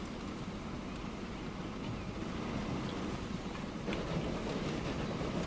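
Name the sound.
train moving along rails in Transport Fever 2 video game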